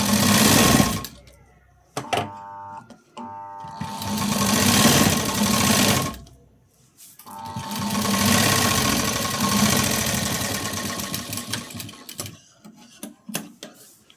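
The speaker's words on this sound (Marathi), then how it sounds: "लॉक केल्यानंतर एकदम सरळ अशी शिलाई द्यायची." Sewing machine running a straight stitch along a buttonhole placket, loud and close, a dense rapid mechanical whir in long bursts that stop and restart with short pauses and handling noises between runs.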